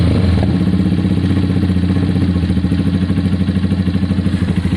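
Honda CBF 125 motorcycle engine running at a steady idle at its first start-up, a loud, close, even chugging pulse that carries on throughout with no speech.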